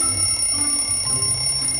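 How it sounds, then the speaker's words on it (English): An alarm clock ringing in the morning with a continuous, loud electronic tone that holds steady throughout and has no other sounds around it. "then suddenly, my alarm went on"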